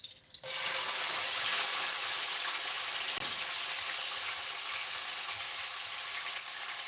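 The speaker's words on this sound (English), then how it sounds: "What's sizzling?" A sudden, loud, steady hiss starts almost at once and holds without letting up, like garlic, onion and peppers sizzling hard in a hot pan close by.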